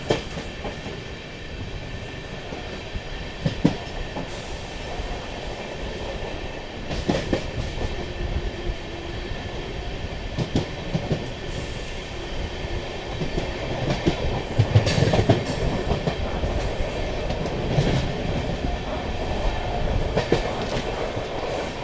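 A Tirupati-Puri Express with a new LHB rake runs on rails near Tenali station, its steady rolling rumble and rhythmic clickety-clack of wheels over rail joints heard close and continuous, with no talk.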